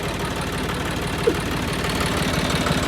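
A Preet tractor paired with a Shaktiman single-row machine, which chokes a lot, idles close by with a steady, low, knocking engine rhythm and one brief clank partway through.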